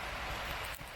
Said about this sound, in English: It's just started to rain a bit